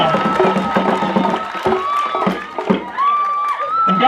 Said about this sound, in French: on l'applaudit, elle mérite des applaudissements